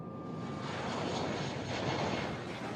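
An easyJet passenger jet departs Geneva, its engines giving a loud, steady broadband roar that holds evenly throughout with no pauses, and no voices can be heard over it.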